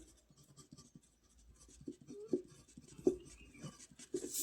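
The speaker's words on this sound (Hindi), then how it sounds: "5 का पहाड़ा पहले लिख लीजिए, और उसका नीचे फिर 8 का भी लिखना है" Handwriting of multiplication tables with a pen or pencil on paper, soft close scratching strokes in short irregular bursts, quiet and without speech.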